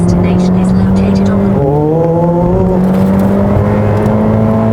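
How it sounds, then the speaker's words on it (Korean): A Ferrari F8 Tributo engine hums steadily with a high, airy turbo hiss and a rising whine instead of a loud exhaust roar, close and continuous. "이렇게 빠방빠방 소리는 전혀 안 나고 피쉬 이런 소리만 나요"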